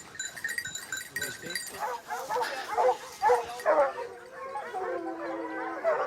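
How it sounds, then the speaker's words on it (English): A pack of hunting dogs bays and yelps on a boar hunt, several voices overlapping in excited bursts that build in loudness, with some barks close and others farther off across open country. "des chiens qui se récrient un petit peu"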